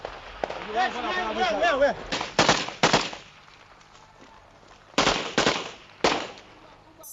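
Gunfire in a dramatized battle scene set during the RUF rebel invasion of Freetown, Sierra Leone: sharp, loud shot bursts, a pair early and another pair later, following shouting and a voice.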